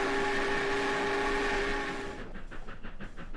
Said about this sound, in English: Let's give it a little bit of a whistle blow here.